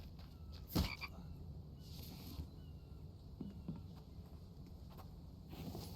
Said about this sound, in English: That frog.